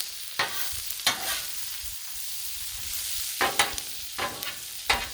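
Onion and bacon frying on a Blackstone griddle give a steady close sizzle, broken by several sharp scraping strokes of a spatula against the flat-top.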